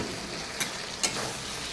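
Ridge gourd tipped into spice paste that has been fried in oil until the oil separates, sizzling steadily in a pot, with two brief sharp crackles standing out over the even hiss.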